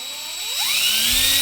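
A power drill bores into a wooden spice rack board, its whine climbing in pitch as the motor spins up, loud and close with no talking.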